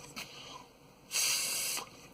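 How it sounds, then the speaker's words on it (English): Brake cleaner sprayed from an aerosol can onto a small-engine rubber hose: a short hissing burst, then a longer sustained spray lasting about three quarters of a second, close and fairly loud, with no talking. "I'm gonna go ahead and spray this out with some brake clean so it's clean"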